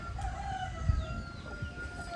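Layer hens on a backyard farm clucking softly amid a quiet, steady outdoor background, brief low calls rising and fading.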